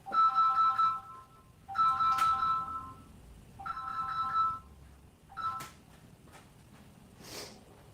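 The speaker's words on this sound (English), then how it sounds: "All right, phone ring." A telephone ringtone sounds in four repeated bursts with short gaps, fairly clear over a quiet room, with a couple of faint knocks or brief noises between rings.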